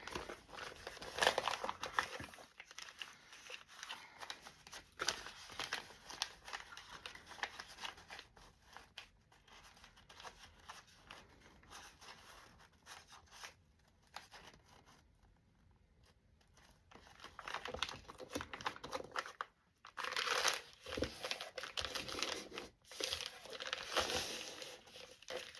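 Wrapping paper for journal covers is crinkled, handled and cut with scissors, producing a long run of close rustling, crumpling and snipping that varies in loudness and briefly drops quieter before picking up again.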